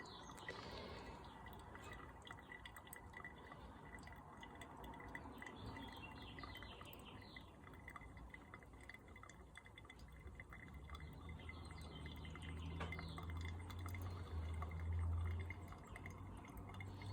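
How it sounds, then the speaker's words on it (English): Water from a kettle is poured over coffee grounds in a pour-over brewer, 360 grams in all, making a faint, continuous trickle and drip that swells slightly toward the end with no talking. "you want to try to finish pouring before 2 minutes and 15 seconds."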